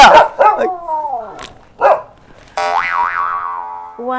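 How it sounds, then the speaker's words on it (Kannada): A dog barks a few times in quick, sharp yips, then a wavering tone takes over, loud and close. "ನಾಯಿ ಬಗ್ಳಾಕತ್ತೈತಿ ಯಾರು ಬಂದಿರ್ಬೇಕು"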